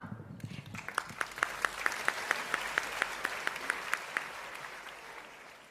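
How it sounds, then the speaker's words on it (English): At an evening awards event, a crowd claps for an honoree as a soft wash of applause rises. One or a few sharp, evenly timed hand claps ring out over it in a steady beat before fading. "Let's give a hand clap for Ms."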